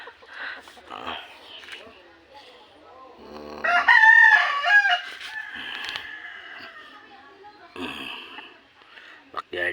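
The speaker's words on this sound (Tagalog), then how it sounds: "Ano itong mga manok ka backyard" Backyard chickens and a rooster: one loud, drawn-out crow rings out at close range in the middle, with softer clucking around it, while people talk nearby.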